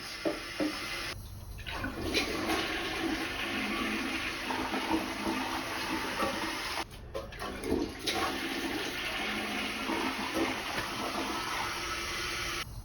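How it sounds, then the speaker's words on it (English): A slow-flushing toilet that leaves water standing in the bowl is flushed, and a loud continuous rush and gurgle of draining and refilling water carries on steadily for the whole stretch, with a brief dip partway through. "go ahead and flush your toilet"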